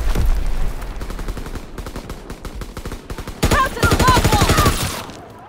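Rapid automatic gunfire from Call of Duty WWII War Mode, a dense stream of loud sharp bursts with a brief lull before a heavier fusillade, shouted game voices mixed in.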